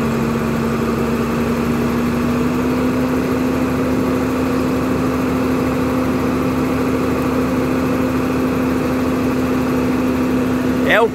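A Case tractor engine runs during a mechanized sugarcane harvest, giving a loud, steady droning hum with a constant low tone that holds unchanged from start to end.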